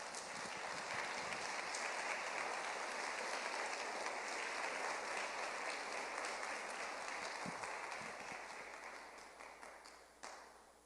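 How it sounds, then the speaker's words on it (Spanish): Sustained applause from a church congregation during a sermon, a dense steady wash of many hands clapping that holds loud for several seconds before gradually thinning and fading toward the end. "Dele un aplauso al Señor"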